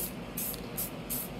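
White enamel spray paint is applied to raw, non-kiln-dried wood in three short hissing bursts of the aerosol can, close and fairly quiet with pauses between them.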